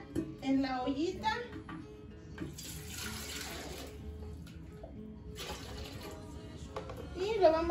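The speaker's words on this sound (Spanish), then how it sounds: "Lo vamos a echar agua en la ollita." Water pours from a tap into a small cooking pot in a home kitchen during preparation of tomatoes and chiles, with two bursts of steady splashing flow, and a person talks before and between them.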